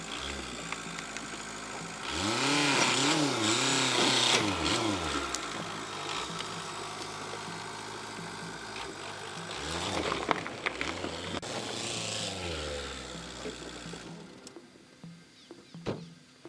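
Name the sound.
Dacia Duster DCi 110 4x4 engine, driving a wheel onto a log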